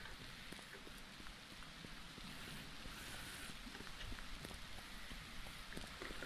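Soft, steady rain in the video game No More Room in Hell patters faintly and continuously, a quiet wash of drops with no voices.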